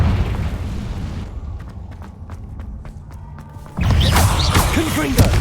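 A Confringo blasting spell explodes during combat in Hogwarts Legacy, a loud burst following a quieter stretch of sharp clicks and impacts, then sustained roaring rumble.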